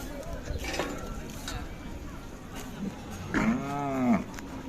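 Cattle and working bullocks at a Khillar livestock market low and moo amid a busy crowd, with one loud, drawn-out moo near the end over a constant murmur of people talking.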